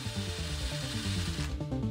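A drill fitted with a felt polishing attachment buffs a lighter case at medium speed, giving a steady, close whirring hum with a faint rubbing texture that drops away near the end.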